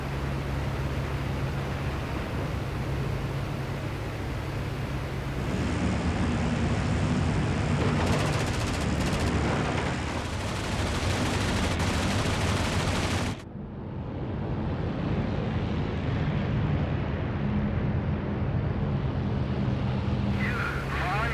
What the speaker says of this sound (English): Tail gun is still going.